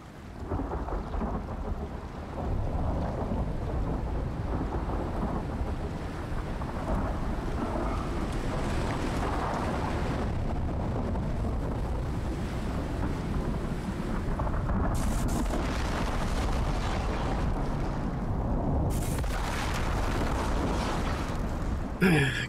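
A thunder and lightning storm in the survival game ICARUS rumbles continuously with heavy rain, deep rolling thunder filling the scene, and a few louder cracks come through over the steady downpour.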